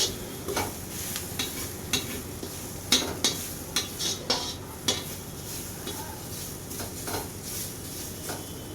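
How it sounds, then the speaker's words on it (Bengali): Ginger and garlic fry in a pan with a steady soft sizzle, while a utensil scrapes and taps against the pan in irregular strokes. "এই দুটো প্রায় ভাজা হয়ে গেছে, আদা রসুন"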